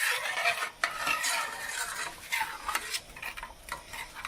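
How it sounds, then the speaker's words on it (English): Spoon moving around a pan of creamy ranch sauce, continuous close scraping and swishing with light clinks against the metal and a soft sizzle beneath. "I'm just moving my spoon around"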